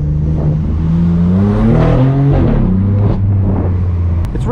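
A straight-piped BMW M4 F82 roars hard from inside the cabin, its loud exhaust rising in pitch through the revs with brief dips at the gear changes, a deep continuous blare.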